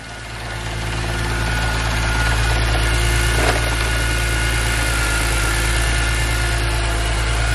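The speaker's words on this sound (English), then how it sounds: "The car starts." A BMW E46 M3, freshly converted from SMG to manual, idles steadily after starting, a loud, close, even engine drone with a low throbbing hum and no talking.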